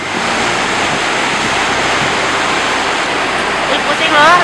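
Ocean surf washes steadily onto a beach where a mysterious boat of mixed fiberglass, iron and wood has been dragged ashore, a loud continuous roar with wind buffeting, and a voice talking over it near the end.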